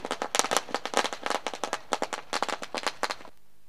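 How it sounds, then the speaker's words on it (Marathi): A string of firecrackers goes off to welcome guests at a village cricket match, a rapid, irregular volley of sharp close bangs that stops abruptly at the end. "इथे पाहुण्यांच्या आगमनासाठी फटाक्यांची आतिषबाजी केली जाते"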